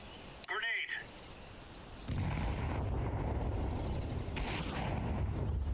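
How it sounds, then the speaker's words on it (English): A grenade detonates in a Counter-Strike 2 competitive match on the Mirage map, a sudden booming blast that spreads into a sustained, loud rumble after a brief voice moment early on. "Grenade."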